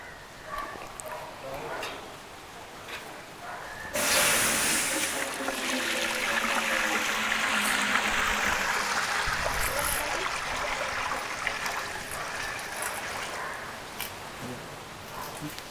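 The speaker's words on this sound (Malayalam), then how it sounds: "അപ്പോൾ നമ്മുടെ വെള്ളം തിളച്ചിട്ടുണ്ട്" Water at a rolling boil in a cooking pot, readied for biryani rice, giving a steady rushing, bubbling hiss that swells loudly after a quieter start and continues close by, with faint voices underneath.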